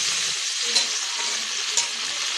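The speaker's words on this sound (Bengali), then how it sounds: "কড়াইতে তেল দিয়েছি কিন্তু কোনো সম্বার কিন্তু দেব না, শুধু তেলের মধ্যেই ছেড়ে দেব বিমগুলো।" Beans fry in hot oil in a wok with a loud, even hiss and a couple of sharp crackles, heard alone.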